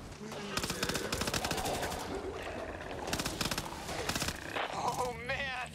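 A mounted gun fires in the video game Back 4 Blood, sending out rapid bursts of shots in quick succession that come and go, with voices talking over parts of it.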